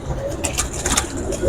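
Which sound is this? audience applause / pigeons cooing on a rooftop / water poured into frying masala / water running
pigeons cooing on a rooftop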